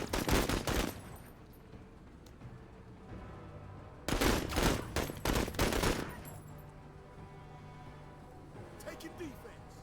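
Rapid video-game gunfire comes in loud clustered bursts, a volley at the start and a longer string of shots midway, then fades to scattered pops over a steady engine-like hum.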